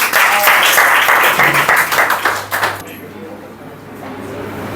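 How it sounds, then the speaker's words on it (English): An indoor audience at a teachers' presentation morning claps loudly for about three seconds, then the applause quickly dies away into low room noise, with voices present. "his or her favorite teacher is Sir Saqib, please give a lot of clapping."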